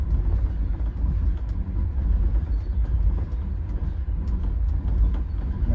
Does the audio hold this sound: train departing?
yes